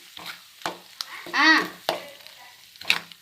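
Spices tempering in hot oil for a leaf chutney, heard as bursts of sizzling and crackling with a louder spitting flare in the middle, along with a few sharp stirring knocks.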